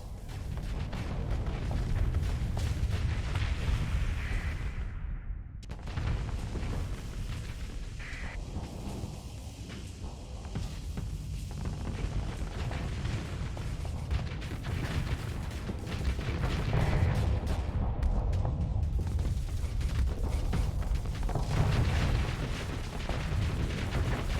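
Aurora ship's Resonator weapon firing on auto in a space combat game, a continuous barrage of heavy booms and rumbling blasts that swells and fades over a long stretch, with no talk.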